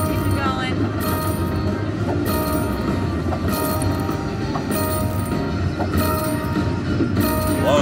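A train sound effect from a Luxury Line Buffalo slot machine game plays in a casino, with a rolling clickety rumble and repeated horn-like blasts, under excited talk.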